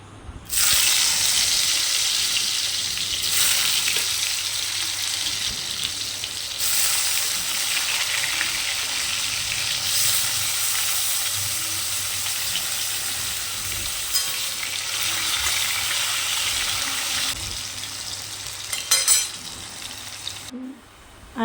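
Thin potato slices coated in turmeric and salt fry in hot oil, a steady, dense sizzle running close and loud for the whole stretch with occasional shifts as pieces settle, no voices.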